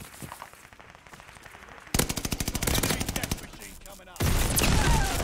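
Rapid automatic gunfire from a Cooper carbine in a video game, coming in loud, fast bursts with a brief lull between them and a heavier burst at the end.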